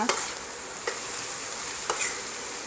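Pork, egg and tomato are stirred in a pan: a soft, steady sizzle sits under three short scraping strokes of a utensil, close and without voices.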